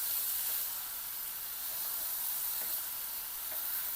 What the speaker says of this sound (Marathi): शेपूच्या भाजीला डाळीमध्ये छान मिक्स करून घ्यायचं बघा